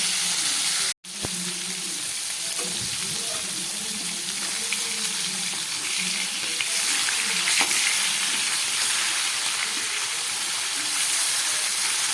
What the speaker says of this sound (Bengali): মাছগুলো খুব ভালো করে ভেজে নিচ্ছি